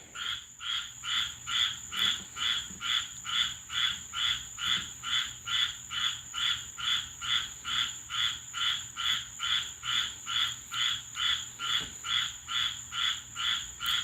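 A chorus of frogs croaks in a fast, steady pulsing rhythm, each croak evenly spaced and repeating without pause, loud and close over a faint high insect-like whine.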